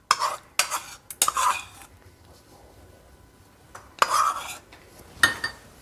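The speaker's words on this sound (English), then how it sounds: "Now we are going to mix all the ingredient together to make this weight loss healthy lunch recipe." A spoon stirs Greek yogurt with makhana (fox nuts) in a bowl, several brief scraping clinks in short bursts with quiet pauses between, close and fairly soft.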